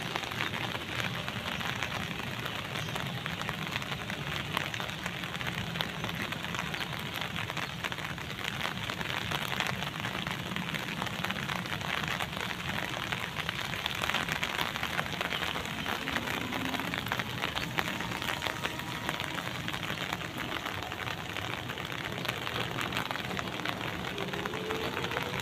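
Steady rain falls after a long heatwave, a dense, even hiss of drops on surfaces that runs unbroken and fairly close, with no voices.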